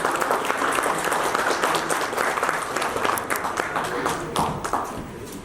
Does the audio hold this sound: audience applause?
yes